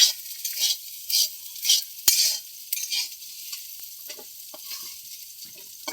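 Potato pieces fry in a pan, heard as a faint hiss broken by several rhythmic bursts of stirring and scraping, with a sharp utensil tap near the middle.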